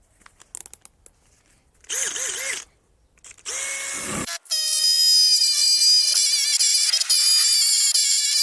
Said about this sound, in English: I'm going to have to get the drill out for a serious attack on it and remove all the rust.